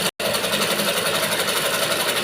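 A sewing machine stitches a blouse hem in a steady, continuous whir with a rapid needle rhythm, close and fairly loud, with a brief dropout near the start.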